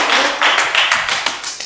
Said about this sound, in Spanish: Un aplauso está.